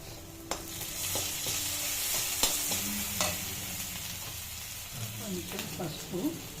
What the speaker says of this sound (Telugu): కొంచెం జీలకర్ర, వేగిపోయి ఇప్పుడు కొంచెం అల్లం వెల్లుల్లి పేస్ట్,